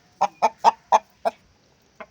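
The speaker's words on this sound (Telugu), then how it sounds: "ఇప్పుడు ఇంకా కూత పడుతుంది ఇప్పుడే స్టార్టింగ్" On a poultry farm, a hen and rooster cluck in a quick series of five sharp calls, followed by a pause and one more cluck, close by and clear.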